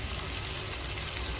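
Fish sizzles in a frying pan, a dense, continuous crackling hiss that stays even and close for the whole short stretch, with no talking.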